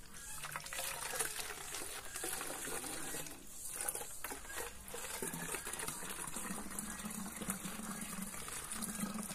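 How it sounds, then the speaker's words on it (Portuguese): A plastic bottle is being filled with water from a fish tank for a homemade chicken waterer, a faint, continuous rushing trickle that holds steady throughout. "Enchei ela d'água."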